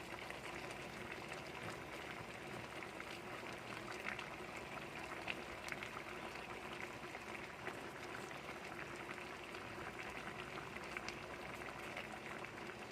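Paksiw na tilapia simmers in a pot, bubbling steadily and softly with a constant fizzing, crackling texture and occasional small pops, quiet and even throughout with no voices.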